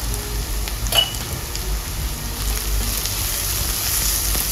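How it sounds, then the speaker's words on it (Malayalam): Small onions sauté with turmeric powder in a pan until browned, giving off a steady, soft, close sizzle with no voices. "ചെറിയുള്ളിയുടെ കളറൊക്കെ മാറി നല്ലോണം ഒന്ന് ബ്രൗൺ കളർ ആവുന്നത് വരെ ഒന്ന് വഴറ്റി കൊടുക്കാം"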